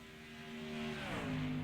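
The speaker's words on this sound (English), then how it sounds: "It sounded like, Trevin, the 7 truck there had possibly some engine damage as well." A damaged pickup truck engine in the iRacing sim, sounding down on power, hums steadily with tonal harmonics that bend downward as it passes, growing slightly louder over the short stretch.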